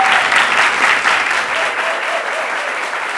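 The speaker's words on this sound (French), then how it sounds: "que je vous demande d'applaudir très très fort" Loud studio audience applause fills the whole stretch, a dense, continuous patter of clapping that eases slightly toward the end.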